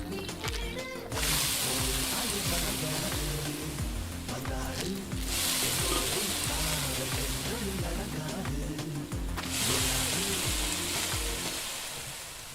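Ginger garlic paste sizzling loudly in a pan in the cooking game Venba, a dense, continuous frying hiss with bursts of spattering, close and prominent, with a faint voice underneath.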